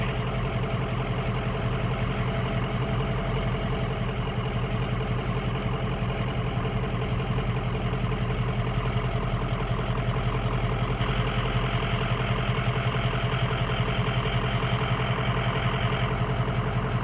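Steady, heavy diesel drone from a truck coasting slightly downhill, loud and close throughout with an even, rattling low-pitched hum and no talking.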